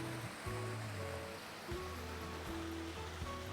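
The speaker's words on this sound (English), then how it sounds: "Here's the Baja shelf for the pool, and just a gorgeous water feature" A water feature splashes into a backyard pool with a Baja shelf, making a continuous close rushing and burbling over low background tones.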